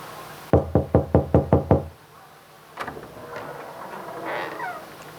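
Someone knocks on a door seven times in a quick, even, sharp run, near and loud, followed by a brief fainter rattle and quiet room sound.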